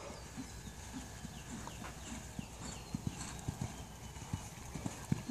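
Hooves of a horse cantering in a jumping lesson thud rhythmically on soft ground, faint and somewhat distant, with the steady beat repeating over a quiet background.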